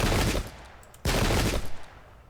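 Two loud, close volleys of musket fire ring out in a Thirty Years War battle at Wimpfen in a strategy game, each burst crackling and then fading out.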